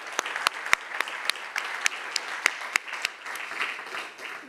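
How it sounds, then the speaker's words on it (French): At the close of a round-table session on water management, a modest room of attendees applauds, with distinct sharp claps standing out irregularly above a light, steady patter of hands. "Je peux vous applaudir."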